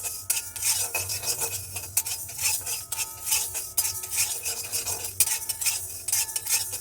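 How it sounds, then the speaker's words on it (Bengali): Black cumin seeds stirred and fried hard in a pan with oil for a homemade hair-darkening preparation, a steady scraping spatula against the metal pan over a soft sizzle, close and continuous with no talk. "কালো জিরেটা একসঙ্গে নাড়বো অনেকটাই কড়া করে ভাজবো"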